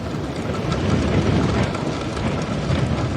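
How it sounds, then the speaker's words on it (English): Wind blowing across a planet's surface in the video game Star Citizen makes a steady, loud, gritty roar that fills the whole stretch evenly, with no voices. "the sound of the wind changing depending on how you face it"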